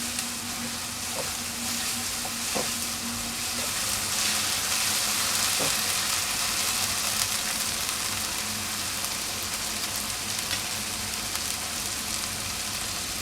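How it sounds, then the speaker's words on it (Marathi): Ginger-garlic paste and onion fry in a pan for an eggplant and potato dish: a steady, close sizzle runs throughout, with a few faint clicks of stirring. "आलं लसूण पेस्ट पण मी घालणार आहे आता म्हणजे छान भाजली जाईल ती"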